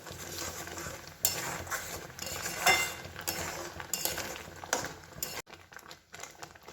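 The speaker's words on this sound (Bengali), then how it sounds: "আমটা এখানে নেড়ে যেতে হবে" Mango pulp with melting jaggery or sugar drops being stirred in a pan at home, a utensil scraping and clinking steadily over a faint sizzle, with brief louder scrapes.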